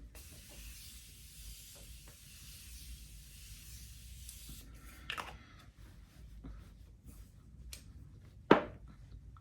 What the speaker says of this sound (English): And this is the Continuous Mist Spray